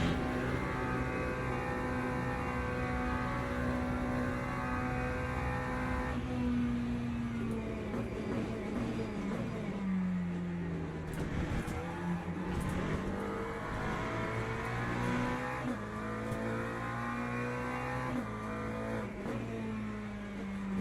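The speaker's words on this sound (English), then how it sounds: "that Ferrari is going fast" A Ferrari race car driving flat out through Curva Grande on a wet track, its engine droning steadily at high revs, dipping and climbing as it shifts and accelerates, close and continuous.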